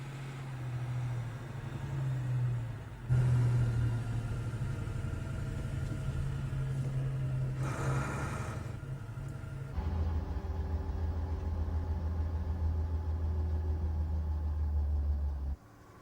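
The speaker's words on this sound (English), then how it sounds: "the Vorn Zugmaschinen pulls the V-2 up and underneath the newly raised field gantry." A German Vorn Zugmaschinen tractor lorry towing a V-2 rocket beneath a field gantry: a steady low engine rumble that runs throughout, rising in level partway through, with no voices.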